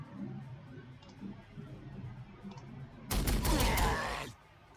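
A burst of rapid gunfire shots in the Warhammer 40,000: Sanctus Reach strategy game, a dense volley lasting over a second that breaks out after quiet background noise.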